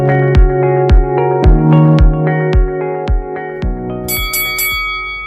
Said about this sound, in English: You just heard the bell.